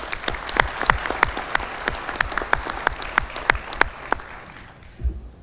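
An audience at a town inauguration ceremony applauds a newly elected councilman, with steady sharp claps from a modest crowd. The applause is close and fairly loud, then fades out toward the end.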